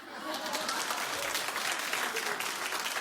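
A TV talk show studio audience claps steadily for about three seconds, a dense, even wash of applause with no pauses.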